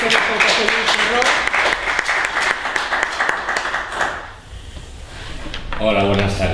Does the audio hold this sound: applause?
yes